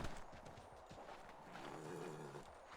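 Horse hooves clip-clopping in the video game Assassin's Creed 3 Remastered, a quick run of irregular hoof thuds followed by a low snort or whinny-like tone, moderately close and fairly quiet.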